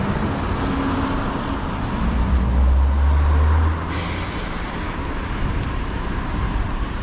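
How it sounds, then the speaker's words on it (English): Cars and other road traffic pass along a street near a church, a steady roadway rumble that swells as a heavier vehicle goes by mid-clip and then settles back to a continuous traffic hum. "Let's wait until these cars are gone."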